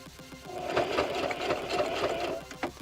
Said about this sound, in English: And I'm just going to do a zigzag stitch.